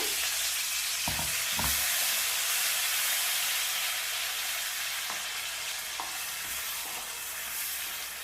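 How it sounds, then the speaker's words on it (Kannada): Ground gravy paste fried in plenty of oil for egg kurma, a loud, dense, steady sizzle with a few knocking stirs near the start and later, close and without voices. "ಇವಾಗ ಜಾರಲ್ಲಿ ರುಬ್ಕೊಂಡಿರೋ ಗ್ರೇವಿನ ಹಾಕ್ತಾ ಇದ್ದೀನಿ ಇದನ್ನು ಫುಲ್ ಎಣ್ಣೆಯಲ್ಲಿ ಫ್ರೈ ಆಗಬೇಕು"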